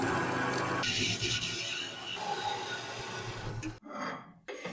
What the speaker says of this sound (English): We begin by cutting a steel bar with a diameter of 25 millimeters by 540 millimeters.